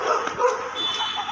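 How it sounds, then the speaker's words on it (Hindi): Dogs, including an Australian Kelpie, bark and yip excitedly at a street dog during a morning walk, several quick close barks with a whimpering edge packed into a brief burst. "ये देखो कैसे भौंकने लग गए।"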